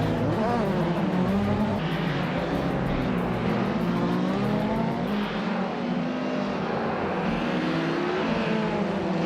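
Race cars in a racing video game roar past one another, several high-pitched engines rising and falling in pitch as they overtake, loud and continuous throughout.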